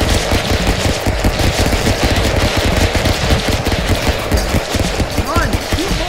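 Rapid gunfire in the Stick Fight video game, dense bursts of shots layered over a pulsing music track, loud and continuous throughout.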